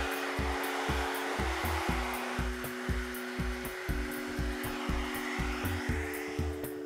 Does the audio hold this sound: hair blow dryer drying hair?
yes